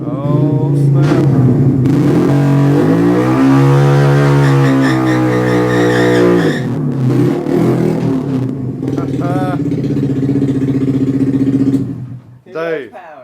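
A CFMOTO Papio motorcycle with an open exhaust revs on a dyno, its engine note loud and close as it climbs and falls through several sustained pulls before cutting off near the end.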